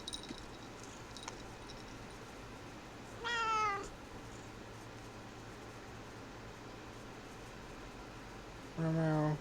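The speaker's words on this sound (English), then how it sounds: "I hope you heard her lovely sonorous meow." A pet cat gives two clear meows several seconds apart, the second one slightly louder, heard alone over a faint, steady room hum.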